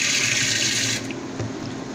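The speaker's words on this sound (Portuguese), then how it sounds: "Tô enchendo aqui o fermentador de água para teste" Tap water runs steadily into a fermenter being filled for a test, a close, bright hiss that cuts off after a second, leaving faint room noise and a small clunk.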